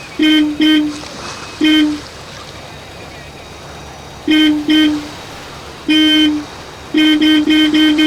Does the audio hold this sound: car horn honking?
yes